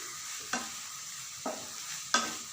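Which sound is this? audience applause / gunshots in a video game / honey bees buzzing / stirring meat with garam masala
stirring meat with garam masala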